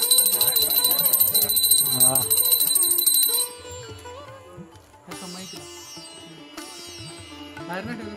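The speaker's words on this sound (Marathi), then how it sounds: "घंटा वाजव घंटिका देवता म्हणून म्हणून हा सर्व उपचार" A brass puja hand bell rings rapidly and continuously during a Konkan Tulsi Vivah ritual, then stops as a priest chants. Fainter bell strikes and other ritual sounds follow.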